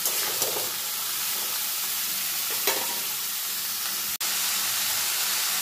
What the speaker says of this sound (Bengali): আমি থোর আর পেঁপেটাকে তেলের মধ্যে একটু নাড়াচাড়া করে নিয়েছি